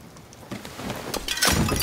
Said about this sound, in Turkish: Kır camı gir içeri ya.